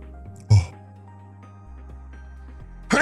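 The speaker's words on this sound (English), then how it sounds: "I'm fucking sneezing at everything." Two sharp, loud sneezes burst out, one near the start and another at the end, with a quiet low hum between them.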